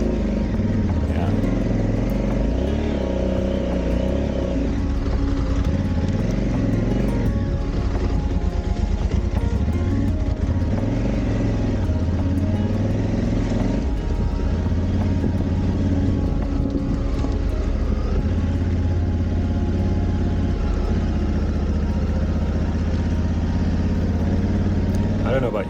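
Honda Africa Twin 1100 motorcycle ridden offroad on gravel and grassy tracks in France, its engine droning loud and steady throughout with the back wheel spinning, a voice talking over it.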